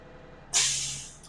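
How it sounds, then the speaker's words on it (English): Air brake system on a school bus sounds as its compressor governor cuts out at pressure: a sudden sharp hiss of released air that starts loud and fades gradually over about a second, with faint engine idle beneath. "My air compressor governor has cut out."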